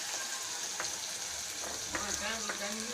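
Onions and mustard seeds frying in hot oil for a gravy, a soft, fairly quiet sizzle with a few brief stirring clinks.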